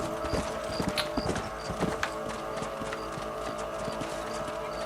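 Horse hooves clip-clop in a brisk rhythm in Red Dead Redemption, close and clear over a steady background of game ambience.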